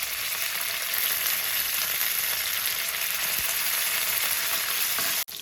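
Garlic fries in hot oil for a smoked eggplant curry, a dense, loud, continuous sizzle close by that holds steady throughout and cuts off sharply near the end.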